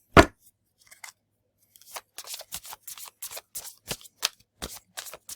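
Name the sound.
shuffling oracle cards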